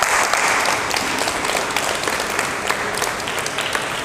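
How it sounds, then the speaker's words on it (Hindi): An audience at a motivational public speaking seminar in Bilaspur applauds steadily throughout, producing a dense, even roar of many hands clapping with no voices above it. "इतनी बड़ी तालियां मिलती है इस बात पे"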